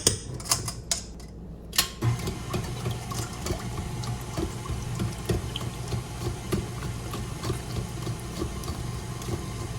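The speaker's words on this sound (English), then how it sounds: "now we're going to mix our wet with our dry." Electric mixer beaters whir steadily through coffee cake batter as the wet ingredients are combined with the dry, with a continuous close motor drone and light clicking and rattling after a few sharp knocks at the start.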